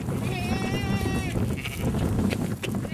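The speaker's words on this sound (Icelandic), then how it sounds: "Þetta er stórhættuleg geitur." A goat in a farm's sheep shed lets out one long, wavering bleat at close range, followed by rustling and faint voices in the background.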